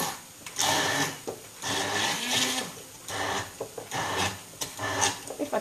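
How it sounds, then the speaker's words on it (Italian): Immersion blender whirring through pistachio pesto with pecorino and oil, coming in repeated bursts with short pauses between, fairly close and moderately loud. "con un frullatore ad immersione"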